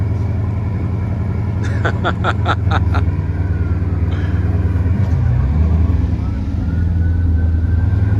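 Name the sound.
Bugatti Chiron Pur Sport engine cold start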